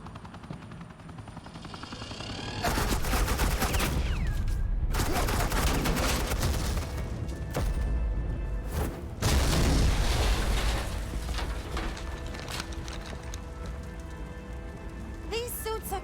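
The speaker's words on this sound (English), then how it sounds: "suppressing fire." Suppressing gunfire in a Batman Telltale video game: dense bursts of rapid shots and crackling impacts roll on in long loud stretches, layered with a steady mechanical drone and scattered debris.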